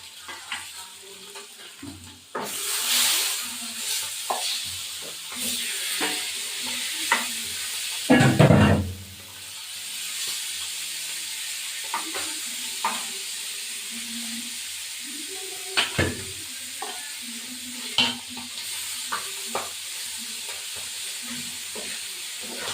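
Tengra fish sizzling and frying in a pan for a cauliflower fish curry, a steady hiss with stirring clatter and a loud burst of spitting oil as the fish goes in, close by.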